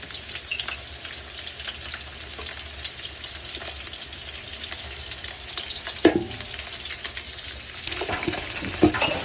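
Onions frying in oil for camel biryani give a steady, loud sizzle and crackle throughout, with occasional stirring scrapes and a brief clatter near the middle, and no talking.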